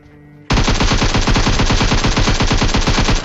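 Automatic gunfire in the mobile game PUBG Mobile breaks in suddenly after a quiet moment, then a loud, rapid, unbroken stream of shots runs to the end.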